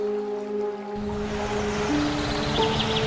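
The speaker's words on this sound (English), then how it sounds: "like the river, where I layered water sounds" Steady rushing water from an outdoor river fills the scene as a continuous broadband wash, with a few faint tonal hums layered underneath.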